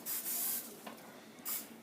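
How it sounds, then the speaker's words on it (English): Cooking spray hisses onto muffin pans in two short bursts, close and fairly soft, with quiet kitchen handling between them. "So I am going to have Steph spray the pans for us."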